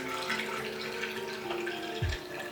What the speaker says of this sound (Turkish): Evet suyumuzu şu an süzüp şişeleyeceğiz.